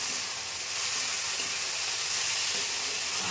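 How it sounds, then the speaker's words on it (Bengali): Garlic and green chili paste sizzles softly in a pan while being stirred, a faint, even hiss close by with no talking. "এটা দিয়ে একটু নেড়ে নিলাম"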